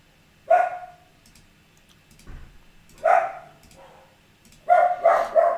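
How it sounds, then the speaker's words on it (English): A dog barking in the background of a home room, three bursts of sharp barks, the last a quick double, spaced apart over a quiet background. "Excuse the dog in the background, guys."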